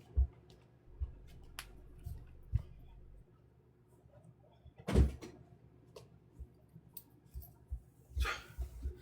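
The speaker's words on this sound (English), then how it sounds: "Can you please shut the door?" A door is shut during a classroom lecture on historical materialism: scattered small clicks and knocks, then one sharp close thud midway, followed by a louder rustling bump near the end, all faint in a quiet room.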